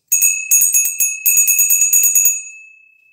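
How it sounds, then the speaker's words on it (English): A small bell rung during live auction bidding gives a quick run of about a dozen bright, close strikes in uneven bursts, then its tone fades away alone. "Time for another bell to ring."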